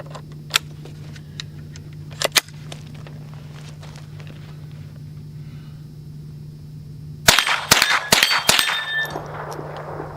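Several sharp cracks from a Henry AR-7 .22 survival rifle fired at steel targets, a quick cluster of about four shots bunched near the end after quiet with a steady hum and a few faint knocks.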